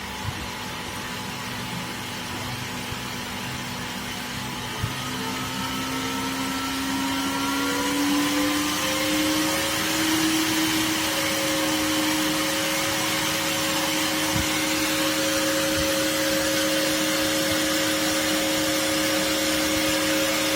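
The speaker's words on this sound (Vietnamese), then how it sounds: "Mình sẽ tăng lên lại, các bạn chú ý nghe tiếng quạt kêu" Cooling fan on a phone charger test rig spinning up, a steady whirring hum whose pitch climbs smoothly over several seconds and then holds at a higher, louder whine, close and continuous.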